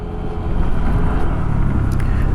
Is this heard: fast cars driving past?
yes